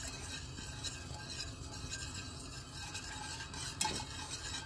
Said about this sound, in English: we're going to let this come to a boil